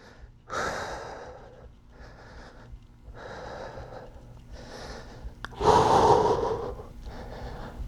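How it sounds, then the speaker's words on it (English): Slow, audible breathing held through a yoga side pose, with long airy inhales and exhales repeating steadily, one breath fuller and louder near the end. "Hold for a few breaths."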